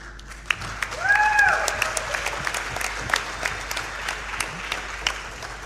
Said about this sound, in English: Go ahead and give yourselves a round of applause for being amazing.